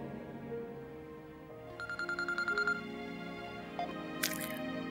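A telephone goes unanswered in a Farsi-dubbed drama series, giving a short burst of rapid trilling rings at moderate distance over a low ambient music bed, followed by a sharp click.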